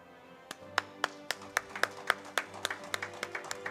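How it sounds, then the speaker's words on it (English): A small audience at an HR awards ceremony claps for a winner, with a sparse, evenly spaced run of individual claps, about four per second, heard faintly against a low electrical hum. "Please give them a huge round of applause."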